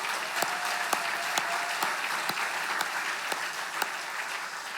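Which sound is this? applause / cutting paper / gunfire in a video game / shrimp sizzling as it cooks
applause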